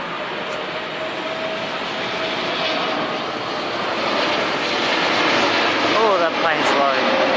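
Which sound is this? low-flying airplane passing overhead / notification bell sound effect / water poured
low-flying airplane passing overhead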